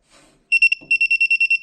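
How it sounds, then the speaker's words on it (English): Circuit breaker finder tracing a household lighting circuit in an old home, giving a quick string of loud, sharp, evenly spaced electronic beeps after a brief rustle. "And sometimes you may have a false positive beep, so you want to recheck."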